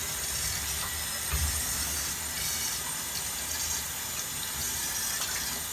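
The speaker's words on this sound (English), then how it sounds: "The water's starting to come through it." Water flows steadily through a hose in a home beer-brewing setup, giving a continuous hissing rush with faint gurgles and a brief low thump near the start.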